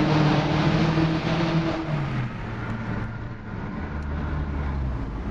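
A 2005 Audi 1.8T Quattro drives through a tunnel, its engine droning steadily with shifting low tones and a reverberant road roar, loud and close throughout.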